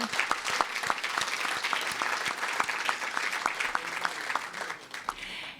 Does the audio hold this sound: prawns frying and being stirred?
no